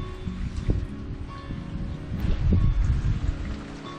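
Rain falls steadily on a mountain trail in the Great Smoky Mountains, a continuous low patter with faint drips and a gentle swell midway, close and moderately loud.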